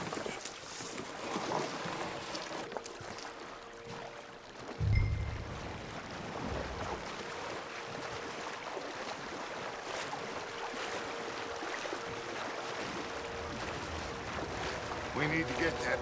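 Steady splashing and sloshing of water, like a canoe paddled along at an easy pace, with a single heavier slap near the middle, in the video game Red Dead Redemption 2.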